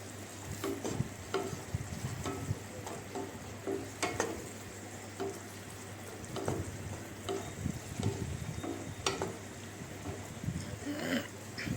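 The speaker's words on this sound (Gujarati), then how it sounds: "પાસ્તાને હરખા મિક્સ કરવા જોઈએ હજી" Pasta being stirred into tomato sauce in a pan, a soft scraping and light sizzle repeating in uneven strokes at close range with a steady background hum, no talking.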